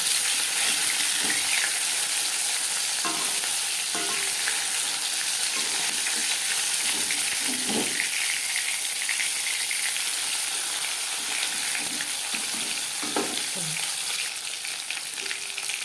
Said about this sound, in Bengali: একটা সাইড ভাজা হয়ে গেলে অপর সাইডটা উল্টে দেবো।